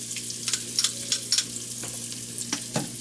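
Spices sizzle in hot oil inside an Instant Pot for a vegan kichuri, a bright continuous hiss with a few quick scraping stirs close by.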